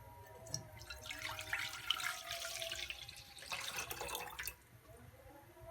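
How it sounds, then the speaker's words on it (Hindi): Milk is poured into a pan while making Kashmiri chai, a close, soft liquid splashing and trickling for several seconds that tapers off, with no talking. "दूध डाल देंगे।"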